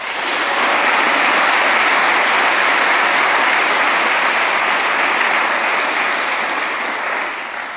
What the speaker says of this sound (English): Please join me anyhow in a round of applause.